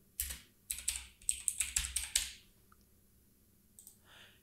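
Quick bursts of typing on a computer keyboard: a short run of close, crisp key clicks lasting about two seconds, then near silence with one faint tap later.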